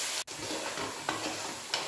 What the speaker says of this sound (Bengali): সব কিছু দিয়ে ভালো করে কষিয়ে নিচ্ছি